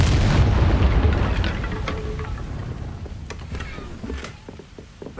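A Confringo fire spell from the video game Hogwarts Legacy erupts in a loud, booming blast, its heavy rumble fading slowly, followed by several short mechanical clicks and crackles.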